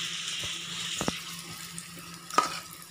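Chicken 65 pieces frying in hot oil, a steady broadband sizzle with a few soft knocks as pieces are dropped in one by one, and a brighter clink near the end; no talking.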